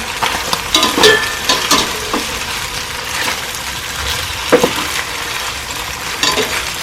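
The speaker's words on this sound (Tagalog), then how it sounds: "Haluin lang natin." Sardine pasta is stirred in a hot pan, with steady sizzling and frying plus scraping stir strokes that come close and fairly loud, without any talking.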